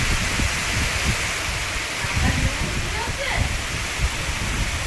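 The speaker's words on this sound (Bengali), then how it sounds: "বৃষ্টি এসেছে, দেখো" Rain falling steadily outdoors beside a newly dug fish pond in rural Bengal, a dense continuous wash of broadband patter with low thumps from drops hitting nearby surfaces, fairly loud and unbroken throughout.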